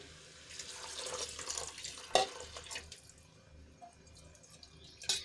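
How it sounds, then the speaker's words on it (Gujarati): Water poured from a bowl into a pressure cooker while making aloo matar pulao, a soft splashing trickle with a few sharper clinks of the vessel, fairly quiet and close. "અહીંયા હું દોઢ વાટકી પાણી ઉમેરું છું"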